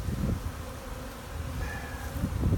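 Cluster of bees up top in a hive, making a low, steady buzzing hum that is fairly faint and continuous, with no voices.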